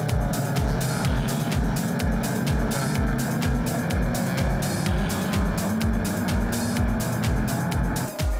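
Race cars pull away at the start of a circuit race, with a dense, continuous roar of many engines revving and pulsing close by, steady and loud throughout.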